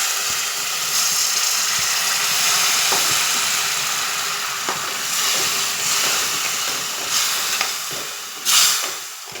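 Water poured into a hot pan of cooked ingredients hisses and sizzles steadily, with occasional soft stirring scrapes and a brief louder burst near the end.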